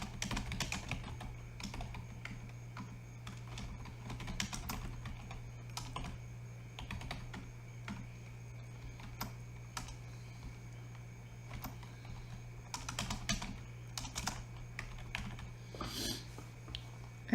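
Clicking keys on a computer keyboard while entering table text, quick irregular bursts of taps with short pauses, close and fairly quiet over a low steady hum.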